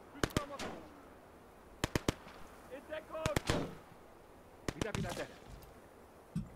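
Gunfire in the video game Call to Arms: Gates of Hell, set in the Winter War, with sharp rifle shots in scattered bursts of two or three, fairly distant and quiet, under low voices speaking.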